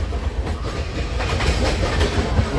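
A train rumbles steadily along the rails with a rhythmic clickety-clack of wheels, a continuous low roar heard from inside a nearly empty passenger carriage.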